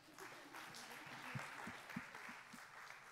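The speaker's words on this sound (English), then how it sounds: "Let's give them a round of applause." Faint, distant audience applause at a leadership speaking event, a soft continuous patter with a few sharper claps standing out.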